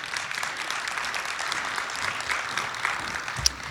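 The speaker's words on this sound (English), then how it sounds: "let's give them another round of applause" A crowd claps steadily for several seconds at a student leadership awards ceremony, a dense, even patter of many hands, with one sharper clap near the end.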